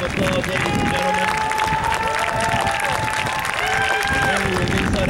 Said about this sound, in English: Let's give them one more round of applause, ladies and gentlemen.